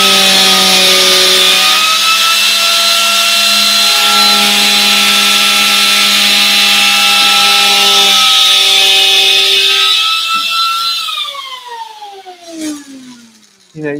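An Arbortech power carver with a reciprocating head whines steadily and loudly while cutting into timber, holding a sustained buzzing tone before winding down and fading toward the end.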